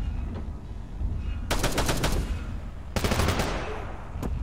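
Two heavy bursts of vehicle-mounted automatic gunfire in ArmA III, each a rapid string of close, loud shots about a second long, separated by a lull of ambient battlefield noise, with a final single shot at the end.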